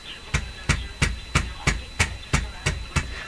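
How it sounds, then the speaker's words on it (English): Eight or nine sharp, evenly spaced taps from a small hammer strike the chassis of an Addison 5A tube radio, each a crisp close knock about a third of a second apart, with no talking. "I'm just going to tap it a little bit."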